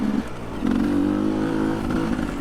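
Motorcycle engine on a ride, accelerating with a steady rising drone that swells after a brief dip and holds strong, close and loud throughout.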